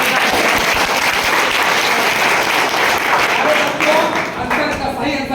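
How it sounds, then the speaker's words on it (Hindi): Students in a lecture hall break into loud, sustained applause that holds steady throughout, a dense wash of clapping from a large group with no gaps. "जोरदार ताली बजाओ।"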